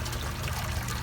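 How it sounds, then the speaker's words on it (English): A water pump runs, pushing water into a backyard pond with a steady trickling, splashing flow close by, continuous and even throughout. "This is just me testing out the water pump."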